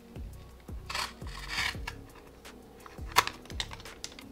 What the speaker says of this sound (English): Let's cut this box.